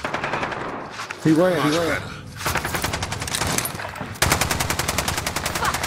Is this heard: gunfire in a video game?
yes